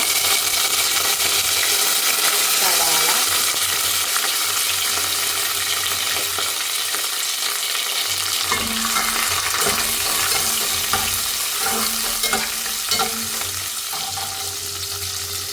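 Sliced onions with cardamom, cinnamon stick, bay leaf and curry leaves sizzling loudly in hot oil, a dense continuous crackle with occasional stirring scrapes and light metallic clinks near the end, close up.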